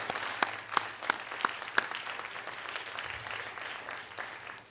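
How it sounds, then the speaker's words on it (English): Applause from an audience at a law school moot court final round: steady, fairly quiet clapping with a few sharp, distinct claps standing out early, then thinning slightly toward the end. "Let's give them a round of applause."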